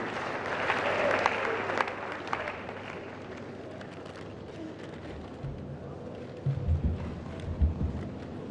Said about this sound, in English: with a standing ovation and a round of applause, welcome Dr. Samuel Ato Duncan